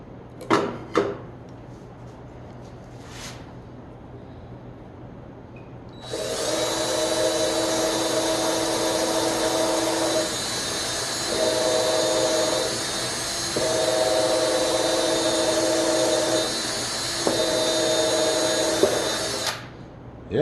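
A power drill whirs steadily for about thirteen seconds after a couple of sharp knocks, its pitch dipping briefly as it bites under load, then stops.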